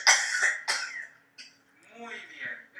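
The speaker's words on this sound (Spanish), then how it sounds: "Esto se llama tos dirigida." A patient's directed cough during chest physiotherapy: two strong, close coughs in quick succession with a brief throat-clearing catch, followed by a short pause and then a voice speaking.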